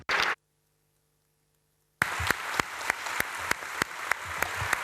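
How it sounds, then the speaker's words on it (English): Audience applause at the FC Barcelona Ordinary General Assembly: a short loud burst, a pause of silence with a faint hum, then sustained clapping from a large hall crowd with distinct sharp claps standing out. "So please, I would like you to give them a round of applause"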